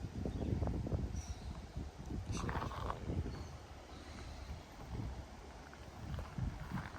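Steady outdoor sea wind at Ucluelet on Vancouver Island buffeting the microphone, a broad rushing roar with gusty low thumps, with no voices.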